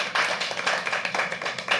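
Lively, continuous clapping from an audience at a live poetry open mic at The Habitat, a busy wash of many hands at moderate volume with no voices.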